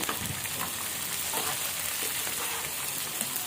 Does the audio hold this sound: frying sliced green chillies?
yes